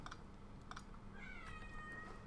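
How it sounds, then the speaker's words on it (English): A pet kitten meows softly in the background, a few drawn-out mewing cries over a steady low hum and faint keyboard tapping. "There's my little kitten in the background there"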